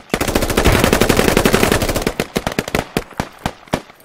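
Gunfire from the game Squad: a loud rapid automatic burst for about two seconds, then slower single and paired shots that spread out toward the end, with no talking over them.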